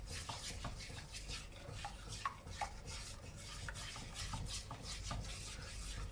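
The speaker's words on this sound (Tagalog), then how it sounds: "You keep stirring lang. Halo lang ng halo." Sugar melts into butter in a pan for homemade brownies while a utensil stirs continuously, giving soft repeated scraping and light clicks against the pan over a faint, gentle sizzle.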